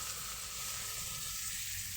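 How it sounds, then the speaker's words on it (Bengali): Onions fry in hot oil in a kadai, giving a soft, even sizzle that holds steady for a couple of seconds without any voices. "সেই তেলের মধ্যেই দিয়ে দিচ্ছি আমি দুটো পেঁয়াজ"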